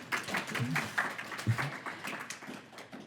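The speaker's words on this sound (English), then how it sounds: "please, everyone, give her like a warm round of applause" Faint, brief round of applause from a small audience welcoming a guest designer to a Q&A, with a voice speaking over the soft clapping.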